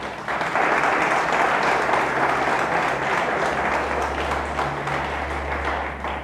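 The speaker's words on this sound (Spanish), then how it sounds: "Dele fuerte el aplauso al Señor" A church congregation applauds during a pastor's sermon, a loud, dense, sustained round of clapping that carries on for several seconds without any speech.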